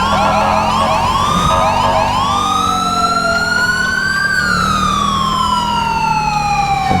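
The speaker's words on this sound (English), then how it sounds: "We'll go ahead and run a little bit more siren here." Police siren on an Illinois State Police-styled Chevy Caprice in GTA 5, a loud, steady wailing tone that sweeps slowly up and down, heard close and alone over a faint engine rumble.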